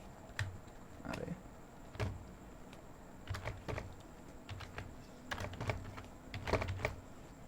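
Computer keyboard keys are tapped in scattered short bursts of soft clicks, fairly faint and close, with brief pauses between groups.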